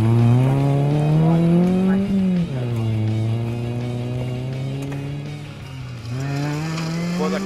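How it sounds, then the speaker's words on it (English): A BMW rally car on a forest rally stage, its engine close and loud, revving high with rising and falling pitch through gear changes. The snarl holds steady across the whole clip. "Rob Webber debuting his brilliantly prepared BMW"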